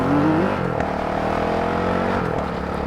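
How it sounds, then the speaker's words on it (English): A motorcycle engine, the owner's 20-year bike, accelerates gently with a steady droning hum whose pitch rises slightly and then settles, loud and close, with no voices. "I'm trying not to accelerate too hard yet, though."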